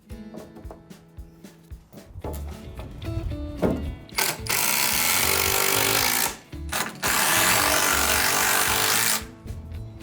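A power driver sends long screws into timber rafters on a small home addition framed by hand. Long, loud whirring runs are broken by short gaps, and scattered clicks and knocks come before them.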